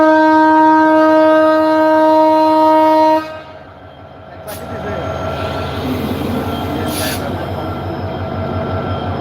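A train engine at a station sounds a long, loud, steady horn toot for about three seconds, then settles into a lower rumble with brief squeals and mixed crowd noise.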